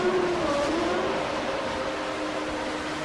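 A race car engine in a racing video game drones steadily as it pulls out of the pits, a loud continuous motor tone with rising pitch sweeps, heard alone without talking.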